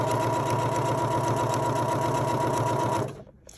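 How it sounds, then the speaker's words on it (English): A PFAFF Passport sewing machine stitches through two layers of cork with a steady, fast mechanical whir that runs close and loud, then slows and stops near the end. "I'm just gonna sew these two pieces of cork together and show you that this machine can handle it."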